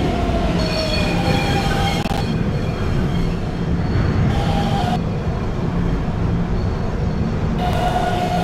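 An R152 subway train runs on a local route in the Roblox game, with a steady loud rumble of wheels on track, rhythmic clatter and intermittent high squeals throughout.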